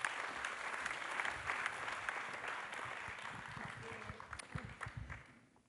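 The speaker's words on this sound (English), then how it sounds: "Give yourselves a round of applause." Applause from an audience at a panel event, a dense, steady clapping that gradually thins into scattered claps and dies away.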